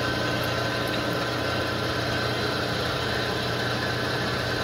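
A Polamco TUG-40 geared head gap bed lathe runs its longitudinal feed in reverse, a steady dense mechanical whir and gear hum with constant loudness, close and uninterrupted, with no talking.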